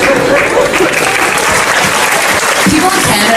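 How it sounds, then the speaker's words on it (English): A Comic Con audience in Montreal bursts into steady, loud applause that fills the whole moment, a dense wash of many hands clapping with a few voices mixed in. "They clap after everybody's questions."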